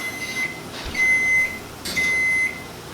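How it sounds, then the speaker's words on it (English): An oven gives a sequence of electronic beeps: three steady high tones, each about half a second long, sounding close by in a quiet room. "My oven is up to temperature because it just beeped."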